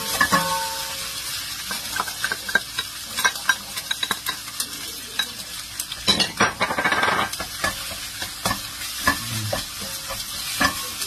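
Onions hit a hot frying pan while cooking bopis, giving a steady sizzle broken by frequent scrapes and clinks of a utensil stirring against the pan.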